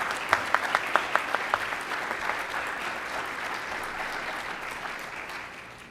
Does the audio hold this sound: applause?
yes